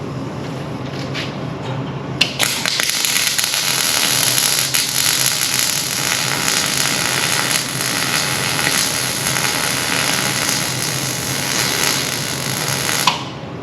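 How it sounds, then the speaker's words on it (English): Plug welding on the underbody of a Skoda Fabia with the welder heat turned up, a loud continuous crackling hiss that starts abruptly after a brief click and runs steadily for about eleven seconds before cutting off. "Crank up the heat because I'm doing plug welds"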